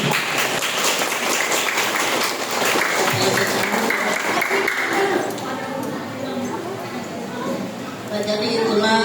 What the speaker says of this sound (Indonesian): Tepuk tangan sekali lagi untuk Anda dan Bunda.